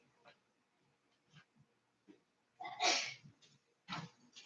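A quiet indoor room carries soft breaths and small noises before a sudden, fairly close sneeze bursts out, followed by another short sharp sound.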